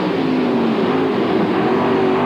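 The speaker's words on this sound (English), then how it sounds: "You could see the car just slow down as the motor grunted to pull out of that tight corner." A World of Outlaws sprint car engine at Williams Grove Speedway drones loudly on track, a steady high-pitched racing whine that slowly shifts in pitch, close and continuous with no talking.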